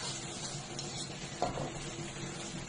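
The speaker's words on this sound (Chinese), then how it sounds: "再来放入葱叶儿，把它翻炒均匀，就可以出锅装盘了。" Hand-torn cabbage with scallion greens and a splash of vinegar is stir-fried, giving a faint, steady sizzle with a soft stirring scrape midway and no talk.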